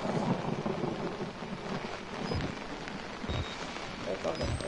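Thunder rumbles low beneath steady rain in the PS4 horror game Outlast, a dense wash of downpour with soft rolling booms, fairly loud throughout and with no clear talk.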